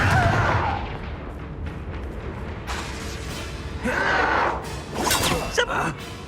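Spell effects in Hogwarts Legacy burst and whoosh in several distinct blasts over a low rumbling bed, loud and close, with gasps and effort sounds between them.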